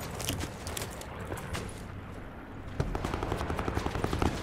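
Gunfire in the battle royale game Call of Duty Blackout: rapid bursts of shots crackling over a constant background din, growing denser and louder in the second half.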